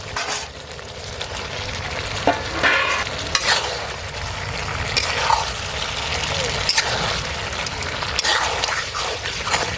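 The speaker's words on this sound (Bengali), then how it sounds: "সুন্দরভাবে মাংসটা কষিয়ে নিয়েছি" Duck meat and fried potatoes sautéing in a pan for a village-style duck curry, a steady sizzle with scraping stir strokes throughout, close and fairly loud, with no talking.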